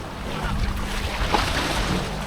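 Heavy surf from big monsoon-season waves pounds the Jakarta sea wall, a steady, loud wash of breaking water and spray with wind buffeting the microphone throughout, no voices.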